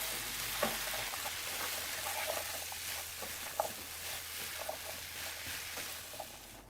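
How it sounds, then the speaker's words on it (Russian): Sliced apples fry gently over low heat in a pan, a soft steady sizzle running throughout with scattered light scrapes and taps as they are stirred continuously. "На небольшом нагреве обжариваю яблоки"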